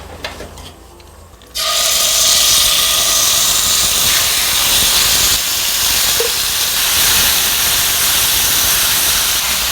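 Pork stir-frying with chili oil in a hot pan, a loud, continuous broadband hiss and sizzle that bursts in suddenly after a quieter start and holds steady to the end.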